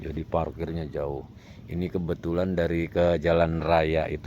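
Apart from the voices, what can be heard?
No distinct noise like a dog, phone or traffic.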